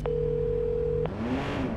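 A phone in Watch Dogs 2 gives a single steady electronic ring tone that cuts off after about a second, leaving a car engine revving in the background.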